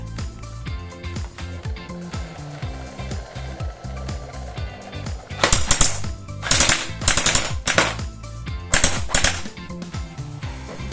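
A TG G36C gel blaster test-fired on a 7.4 V battery: several loud, rapid automatic bursts of clattering gearbox fire, each a second or so long, close to the listener, separated by short pauses with mechanical handling noise.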